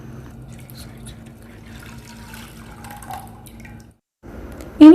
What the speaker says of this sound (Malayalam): ഇനി നമുക്കിത് ഒരു പാനിലോട്ട് ഒഴിച്ച് കൊടുക്കാം